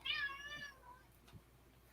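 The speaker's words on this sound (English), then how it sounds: "Oh, there goes the cat." A cat gives a single clear, fairly close meow with a falling pitch in an otherwise quiet room, followed by faint low shuffling.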